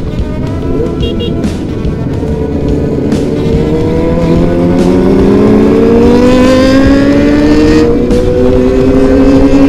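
A high-pitched Kawasaki ZX25R sport motorcycle engine revs hard and climbs in pitch, screaming loudly and close by with repeated throttle blips.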